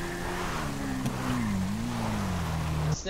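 A motorcycle engine in the GTA 5 video game drones steadily while ridden in the rain, its low hum rising and falling slightly over a constant wash of rain noise.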